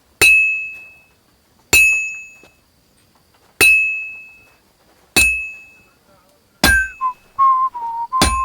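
A church bell in Kingdom Come: Deliverance II tolls six times at a steady pace about one and a half seconds apart. Each loud, bright strike rings out and decays, with a wavering whistle-like tone near the end.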